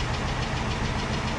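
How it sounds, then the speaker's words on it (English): A classic car engine idles smoothly and steadily after its points and condenser were changed, with a faint tapping knock running under the even rumble. "It idles way better."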